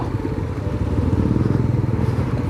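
An old motorcycle engine runs while the bike is ridden. The close, rapid chugging exhaust pulses steadily with light mechanical clatter and wind noise, and no voices are heard.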